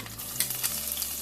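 Garlic cloves frying in hot oil in a heated pan, a short burst of steady hissing sizzle with a few louder crackles, heard alone with no one speaking.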